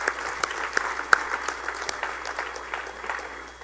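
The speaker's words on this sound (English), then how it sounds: "so please, a round of applause to these guys." Chamber of commerce networking audience applauds, a steady ripple of many hands with a few sharp nearby claps standing out, continuing at an even level.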